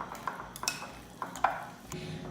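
Cashew milk being stirred into a vegan stuffed-potato filling, with a spoon clinking and scraping against a bowl in scattered light taps and knocks, close and fairly quiet, no talking.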